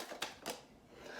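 A tarot card deck flipped over by hand, giving two short, soft papery flicks in quick succession, close and fairly quiet with no talking.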